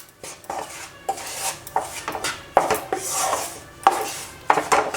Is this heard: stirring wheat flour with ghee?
yes